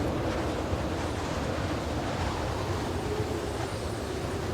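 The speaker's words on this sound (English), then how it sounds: "When we finish, the sky darkens and the wind rises." Strong wind sweeps over the open Arctic as the sky darkens, a steady roaring rush with a surf-like wash beneath it, constant and loud throughout with no voices.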